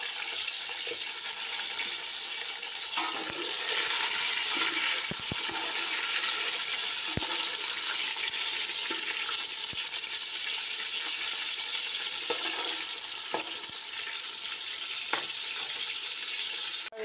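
Tomato frying in white oil and ghee with whole garam masala in a pan, giving a continuous bright sizzling hiss with a few soft clicks of stirring and no talk.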